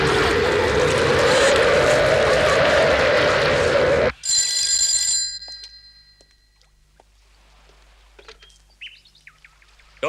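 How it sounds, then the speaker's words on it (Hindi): A telephone rings in a crime film scene: a loud, steady electronic ring bursts out briefly and cuts off, followed by quiet room tone with faint small sounds. "सुनिए बॉस, मोरिनो का फोन है आपके लिए"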